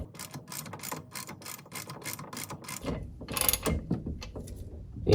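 A 3/4 socket ratchet turns a bushing into a Mercruiser outdrive lower unit during a rebuild, giving rapid, steady clicking pawl strokes up close, then heavier, louder metallic clunks toward the end as the threads tighten.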